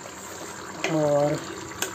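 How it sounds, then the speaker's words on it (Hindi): A running tap fills a vessel in a home kitchen, a steady rushing hiss of water with a woman's brief spoken word over it. "यहाँ पानी भर गया बंद करूँ मैं"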